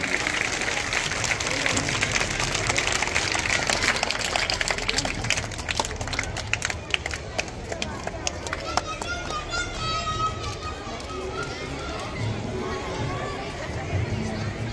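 An audience at a school lamp-lighting ceremony performed by young children claps in a burst of scattered applause, mixed with crowd chatter and children's voices, then settles back into murmuring.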